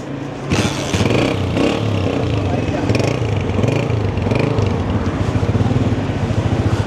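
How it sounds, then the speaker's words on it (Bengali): A 125cc motorcycle engine putters loudly and close throughout in Kachura, Skardu, its rhythmic throbbing rising slightly, with people talking over it. "125 সিসির বাইক এটা"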